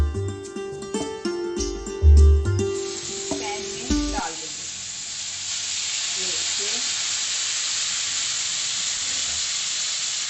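Chicken tikka sizzles in a lightly oiled pan, a few loud knocks and clatters up front giving way to a sustained, bright hiss of frying that holds close and steady to the end.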